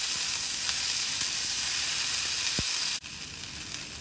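Green chilli and tomato fry with onions in hot oil, a steady close sizzle with faint clinks from the pan, and a brief dip partway through.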